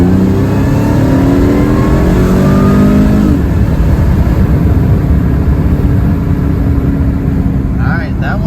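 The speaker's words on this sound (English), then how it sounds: "Second gear, full throttle pull." Tuned Mercedes C32 AMG pulling at full throttle in second gear, loud close engine roar rising steadily in pitch with a supercharger-like whine, then easing off near the end.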